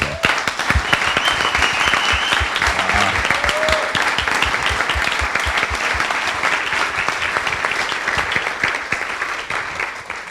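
Sustained applause from a crowd, steady and loud for about ten seconds, with dense clapping that tapers slightly at the end.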